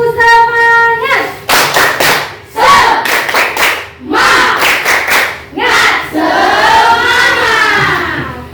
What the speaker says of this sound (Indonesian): Oke, kita tepuk tangan aja dulu.